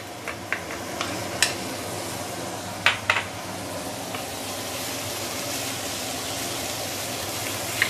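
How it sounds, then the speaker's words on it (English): Ginger and garlic sauteing in garlic oil, heard as a steady, dense sizzle with a few sharp clicks and taps of a spatula against the pan, close and alone, with no talking. "Then we're going to saute the ginger and garlic."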